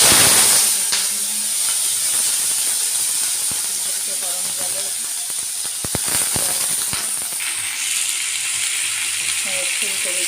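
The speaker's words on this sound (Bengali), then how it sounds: "কালো জিরে ফোড়ন দিয়ে" Black cumin seeds tempering in hot oil in a wok give a steady, loud hiss and sizzle throughout, with faint clinks from kitchen activity and some background speech-like sounds.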